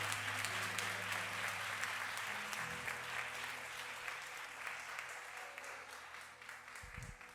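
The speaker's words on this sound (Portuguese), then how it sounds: "Aplauda Jesus." A congregation claps for Jesus at a Portuguese-language church service, steady distant applause over sustained keyboard chords that fades slightly toward the end.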